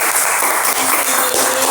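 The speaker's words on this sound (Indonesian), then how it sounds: "Tepuk tangan dulu dong." Applause from a student audience welcoming guests on a campus talk show, a dense, loud, continuous wash of clapping from many hands.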